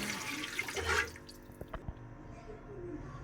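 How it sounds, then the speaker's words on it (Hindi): Water is poured into a cooking pot for degi rice, a short gushing splash that tapers off, followed by a few faint knocks and clinks nearby. "इसके अंदर मैं पानी डाल दूँगी।"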